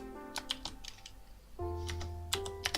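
A computer keyboard clicks in short bursts of quick keystrokes, close and fairly quiet, as a command is typed in, with a steady tone humming underneath.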